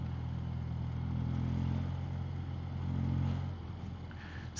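A BMW Airhead motorcycle engine drones steadily while riding at about 30 mph, a low rumbling hum that swells slightly as the throttle opens, with a lean bog and faint wind noise.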